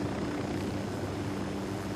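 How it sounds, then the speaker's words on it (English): A helicopter flying in a military shooter game, a steady rotor and engine drone at moderate, even loudness with no talking. "There's another helicopter behind us."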